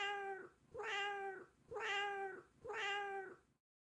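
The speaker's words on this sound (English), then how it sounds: "You heard a cat." A cat meows three times in a slow, even rhythm, each call loud, close and drawn out, with nothing else heard around it.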